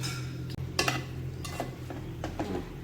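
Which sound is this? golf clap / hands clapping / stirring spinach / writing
stirring spinach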